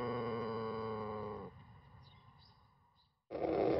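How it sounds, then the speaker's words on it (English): A long, deep, drawn-out crow from a low-pitched Koeyoshi rooster with a low growling tone, fading into quieter rasping before a brief loud burst at the end. "This deep, low sound is nothing like the high, ringing crows of other breeds."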